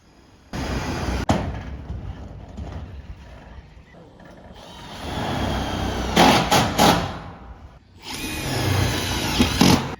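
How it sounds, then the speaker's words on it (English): Compact Milwaukee M12 impact driver sinking self-tapping screws through roof sheets on a truss roof, with several rattling bursts of hammering impacts separated by quieter handling noise. "we're using the self-tapping screws and the little Milwaukee M12 impacts, which work really well for this"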